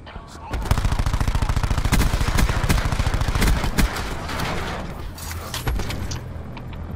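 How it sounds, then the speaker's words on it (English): Rapid automatic gunfire in Call of Duty Black Ops 4 Domination, a loud, close burst of steady shots lasting a few seconds, then fading into game ambience. "Alright, I'll put bullets into him,"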